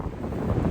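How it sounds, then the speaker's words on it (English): A brief, steady rush of wind on a Sheltowee hiking trail, with a close rumble against the microphone and no voices. "It's pretty windy right now."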